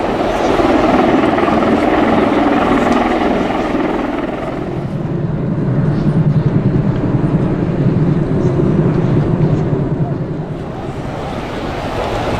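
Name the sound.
USAF CV-22B Osprey tiltrotor aircraft flying display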